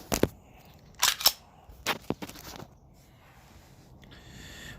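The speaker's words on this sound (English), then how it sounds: "while I rack the slide" A CZ P07 pistol slide is racked by hand, giving a few sharp metallic clacks and clicks close by, followed by quieter handling noise.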